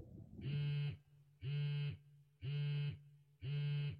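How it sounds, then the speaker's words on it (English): A cell phone vibrates close by in four evenly spaced buzzing pulses, each about half a second long, loud and droning against a quiet background. "What sounds like a cell phone vibrates nearby"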